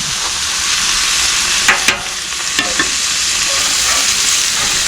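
Pork sisig sizzles and crisps in a hot pan for a Filipino breakfast burrito, a steady loud hiss throughout with a few brief scraping stirs near the middle; no one speaks.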